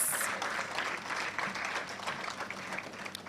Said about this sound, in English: Clap them, please.